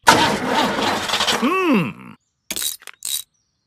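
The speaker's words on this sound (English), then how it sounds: "Try the engine." A cartoon car engine sputters and tries to start, with wobbling groans and clinks, then short bursts of rattling after brief pauses.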